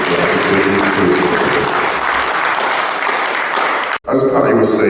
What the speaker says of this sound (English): So give Tom a round of applause,